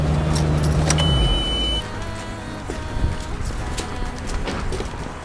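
A car door shuts with a solid thump, followed by a short electronic lock beep and chirp, then quieter shuffling and footsteps nearby.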